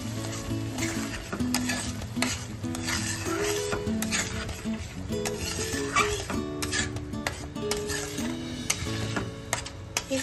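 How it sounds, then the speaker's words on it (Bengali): Spinach puree being worked into spice masala in a pan for palak paneer, with clattering metal scrapes and stirring against the pan under a steady background hum, close and continuous. "এবার ভালো করে মিক্স করে নেব।"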